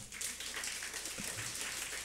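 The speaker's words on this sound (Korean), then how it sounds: "박수 한번 안 치실랍니까?" A church congregation claps during a sermon, a soft, even spread of applause from many people in the room, moderately quiet and sustained without speech.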